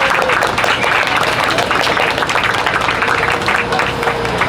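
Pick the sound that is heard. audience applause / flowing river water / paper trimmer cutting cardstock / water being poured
audience applause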